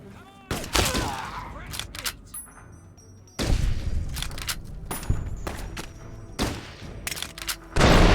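Grenade explosions and gunfire in a Fallout game, a series of sharp booming blasts and rapid shots separated by quieter gaps, with a heavy burst at the end.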